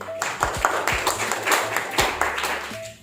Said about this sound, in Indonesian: aplaus untuk Mbak Erni